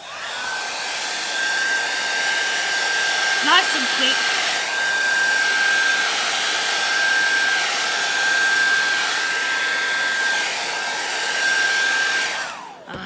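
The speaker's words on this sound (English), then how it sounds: "just use my hairdryer to spread it around." A hair dryer blows steadily at close range over wet acrylic paint on a canvas, with a constant whine, its pitch dropping as it shuts off at the end; a brief spoken remark partway through.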